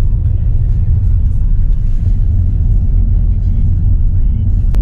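A 1998 Vauxhall Corsa B drives along with a steady, loud low engine and road rumble heard from inside the cabin, continuous and even throughout.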